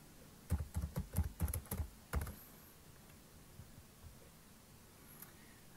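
Keyboard typing as an aircraft number is entered into a form field: a quick run of about eight close, crisp keystrokes over two seconds, then quiet with only faint stray clicks.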